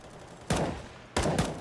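Gunfire in Counter-Strike on the Train map, shot through a wall during a DreamHack Open Montreal 2018 match: two loud bursts of rapid shots about half a second apart, each a quick cluster of cracks, close and prominent.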